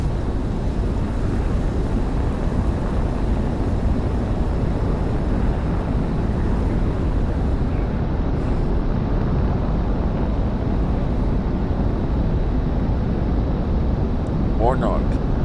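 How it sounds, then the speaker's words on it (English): Fighter jet taking off in Project Wingman VR: a steady, loud engine roar and rumble runs throughout, with faint radio chatter-like voices over it. "Monarch, you are clear for takeoff."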